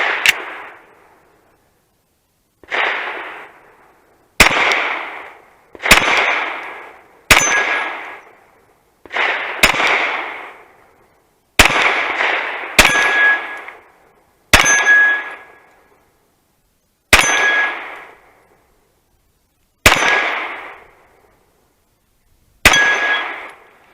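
A handgun fired in single shots, roughly a dozen loud, sharp reports at uneven intervals with short gaps of silence, from a revolver and semi-automatic pistol comparison against a 9mm.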